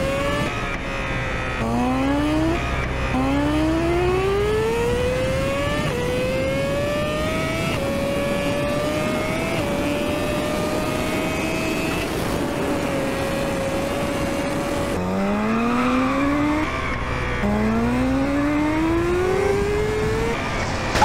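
A BMW S1000RR motorcycle accelerates hard at high speed on a highway, its engine pitch sweeping upward through repeated gear changes, loud and continuous under rushing wind noise.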